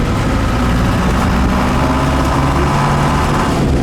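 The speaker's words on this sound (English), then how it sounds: "Give it a fair bit of rev in." A Land Rover Series 3 engine roars loud and close from inside the cab, revving hard in a sustained rough drone with a deep rumbling low end.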